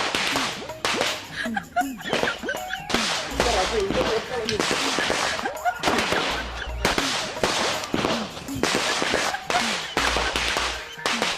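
Sharp cracking bangs go off repeatedly in quick irregular bursts, loud and close, with short gaps between the volleys, at a Sivakasi firecracker shop.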